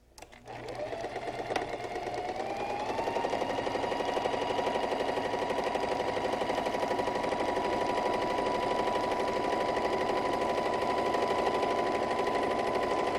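A sewing machine runs steadily while stitching up the side seams of a garment, a continuous even whir that starts after a brief click and holds at a constant speed for over ten seconds, close and alone.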